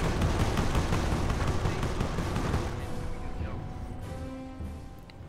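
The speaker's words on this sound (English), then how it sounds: "Incoming artillery just shy of taking out an anti-tank emplacement or an anti-tank vehicle." Artillery fire pounds in the Company of Heroes strategy game, a dense barrage of loud, rumbling blasts and crackling shots that gradually thins into scattered distant booms and fading echoes.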